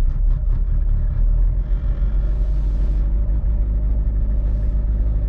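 A car engine idles steadily up close with a low continuous rumble and a brief rise in revs partway through, no voices over it.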